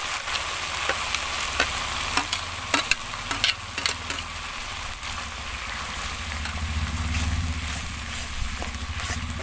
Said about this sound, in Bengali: ভালো করে মশলাটা এবার কষিয়ে নিতে হবে